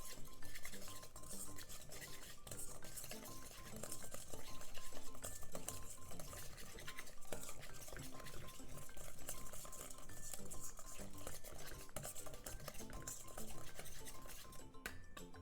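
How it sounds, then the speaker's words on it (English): Utensil stirring creamy sesame dressing with garlic paste, salt and pepper in a bowl, a steady close scraping and clinking that runs the whole time over a busy background. "Give it a mix."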